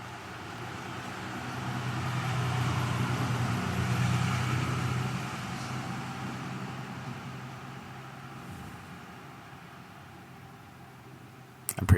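A small ATV passes by with a muffled engine drone that builds, peaks and slowly fades back into a noisy background, heard from a moderate distance.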